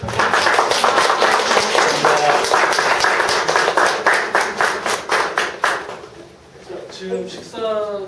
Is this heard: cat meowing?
no